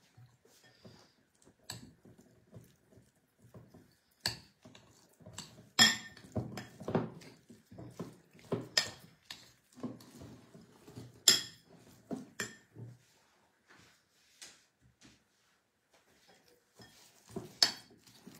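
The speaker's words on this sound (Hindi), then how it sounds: "इसे अच्छे से मिक्स कर लेंगे।" Ingredients are mixed in a bowl in a home kitchen, with scattered clinks, taps and scraping knocks of utensil against dish coming in irregular bursts, fairly quiet and with no talking.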